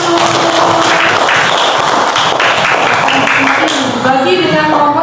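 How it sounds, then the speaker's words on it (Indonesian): Classroom applause for students, a group of children clapping loudly and steadily for several seconds, with voices rising near the end as the clapping eases. "kita beri tepuk tangan dulu"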